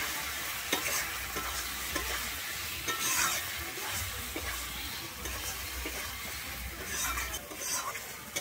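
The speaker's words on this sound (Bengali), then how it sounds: "মটরশুঁটিটা দিয়েও কিন্তু আমি একটুক্ষণ কষিয়ে নেব।" Peas and capsicum fry in a pan at home while being stirred, a continuous close sizzle broken by repeated scraping strokes of a spatula against the pan, with no talking.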